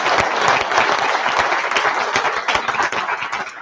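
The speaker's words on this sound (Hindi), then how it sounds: "आप एक बारी जोरदार ताली बजाएं।" Loud, vigorous applause fills the hall at an awards ceremony and book launch, a dense rush of many hands clapping together without a break, close and sustained, with no voices over it.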